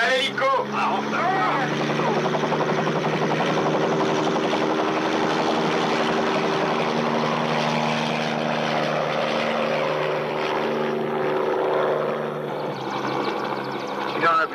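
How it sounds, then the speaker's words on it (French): A helicopter's steady droning engine and rotor throb fill the whole stretch at close range, loud and unbroken, with a voice or two heard under the noise during the Algerian war in the Aurès mountains. "Allez, mec, là, l'hélico."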